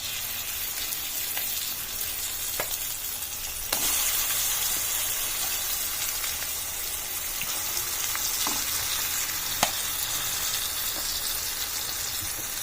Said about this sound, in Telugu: పచ్చడి తాలింపు వేస్తాం